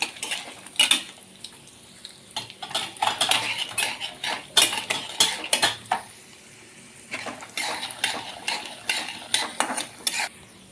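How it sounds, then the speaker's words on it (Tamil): Urad dal and mustard seeds fry in hot oil for a betel-leaf rice tempering while a metal spoon scrapes and stirs the pan in quick, irregular bursts over a soft, continuous sizzle. "இப்போ கடுகு போடுறேன். எல்லாம் பொரியட்டும், செவக்கட்டும் பருப்பெல்லாம்."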